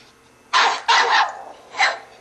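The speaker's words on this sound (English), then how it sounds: "The doorbell rings and the dog starts barking, flies to the door, and starts barking at the person at the door." A dog barks loudly at the front door after the doorbell, three sharp close barks: two quick ones in succession, then a third after a short pause.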